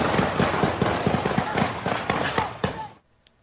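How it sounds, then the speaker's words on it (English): Rapid barrage of police gunfire in a city neighborhood street, dense overlapping cracks and bangs firing continuously for about three seconds, loud and close, then stopping abruptly into near silence. "and then a barrage of gunfire"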